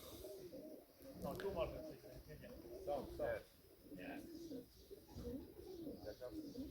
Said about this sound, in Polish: I idą gołębie cały czas.